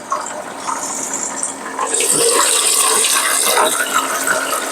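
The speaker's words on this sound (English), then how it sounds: "It's spinning the can and spraying ice cold water on top of the can while it spins." A beverage can chiller spins a can while spraying ice-cold water over it, giving a steady rushing, splashing hiss that grows louder and fuller partway through and then keeps going.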